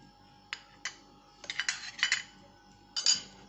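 A spoon clinks and scrapes against a bowl while lemon juice is stirred into papaya chutney: a few light taps, then a cluster of quick metallic scrapes and a final pair of clinks, close and fairly quiet.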